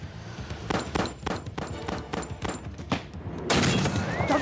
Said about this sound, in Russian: Взрыв престижного 600-го Мерседеса.